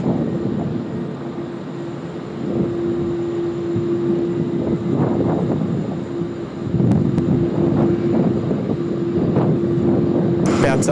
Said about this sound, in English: The T-Way A330 coming in from Incheon.